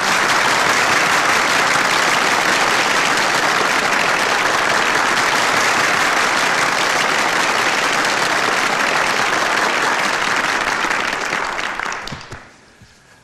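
Studio audience applause at the Abuzer Kadayıf comedy talk show, a dense, steady wall of clapping that holds loud for about twelve seconds before tapering quickly away.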